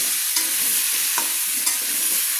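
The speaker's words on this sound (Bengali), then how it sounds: "মিষ্টি কুমড়োগুলোও দেখুন আমি লাল লাল করে ভেজে নেব আলুর সঙ্গেই আমি দিয়ে দিলাম" Pumpkin and potato pieces fry in hot oil together, giving a steady close sizzle broken by a few sharp scrapes and clacks as the pan is stirred.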